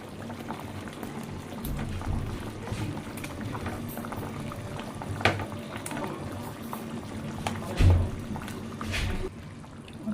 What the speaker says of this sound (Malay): Okey, dah menggelegak, kita masukkan kentang.